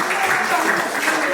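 An audience at a Korean political gathering for small business owners and the self-employed claps together, a dense patter of hands with voices talking over it.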